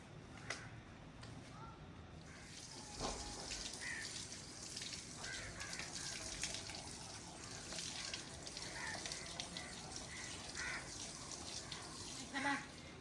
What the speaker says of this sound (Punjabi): ਇਹ ਜਿਹੜੀ ਸਬਜ਼ੀ ਆ ਨਾ ਇਹ ਮੈਂ ਧੋ ਲਈ ਆ